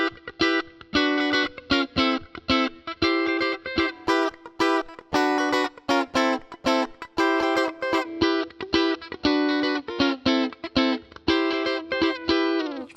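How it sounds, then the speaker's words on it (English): Electric guitar through a Fractal FM3/FM9/Axe-FX III preset with multi-band compression, playing a choppy, rhythmic funk-style riff of short bright chords and muted stabs, loud and up front with no talking. "So here's our main tone, multi-band compressor,"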